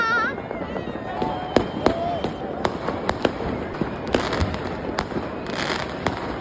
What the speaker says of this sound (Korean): 이렇게 작은 폭죽들이 계속 터지긴 하는데